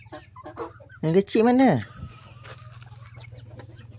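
Backyard chickens give a loud, close burst of clucking and squawking, with softer clucks scattered around it and a person speaking briefly nearby.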